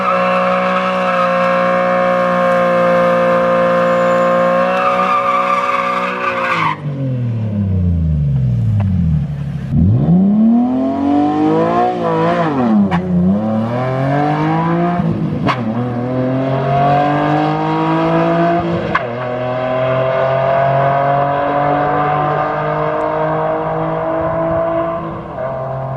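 A drift car makes a drag race run. Its engine holds a steady high drone, then drops sharply and revs through repeated rising gear sweeps, loud and close throughout, with the pitch climbing in waves and no talking.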